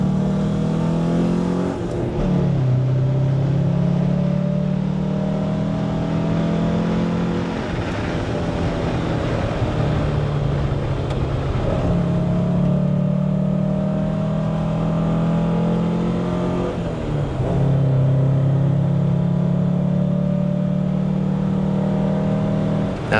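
A little 2.1-litre car engine revs hard on a damp race track, pitch climbing and dropping through repeated gear changes in a steady, loud, close drone that stays on throughout.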